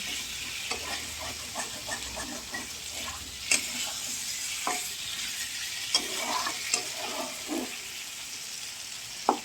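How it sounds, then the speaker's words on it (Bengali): Potatoes and egg frying in a pan for an egg curry, a continuous sizzle broken by repeated scraping stirs of a spoon against the pan. "একটু নাড়াচাড়া করে তারপরে অল্প জল দেবো"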